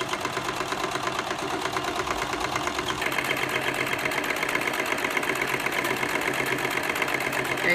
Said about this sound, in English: Sewing down the side, you know, half inch, 3/8 inch